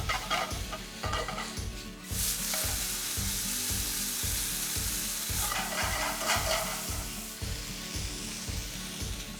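Minced meat with oyster sauce frying in a pan, a continuous sizzle punctuated by regular, rhythmic spatula scrapes as it is stirred, close and steady with no talking.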